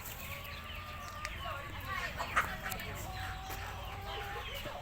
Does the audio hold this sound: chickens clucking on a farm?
yes